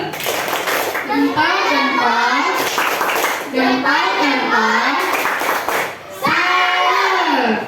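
Schoolchildren in a classroom group chant the "tepuk salut" clapping routine, with rhythmic bursts of hand claps and sung, shouted voices repeating in loud phrases.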